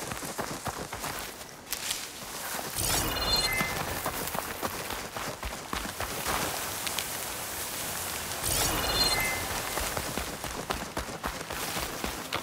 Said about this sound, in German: War klar, dass es regnet.